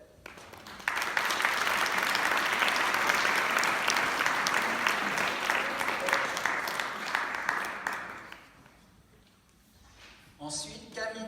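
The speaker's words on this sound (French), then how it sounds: "je crois que l'Assemblée peut les applaudir pour les encourager dans leur choix" A church congregation at a harvest service breaks into sustained, even applause that carries on for several seconds before tapering off, with a voice resuming speech at the end.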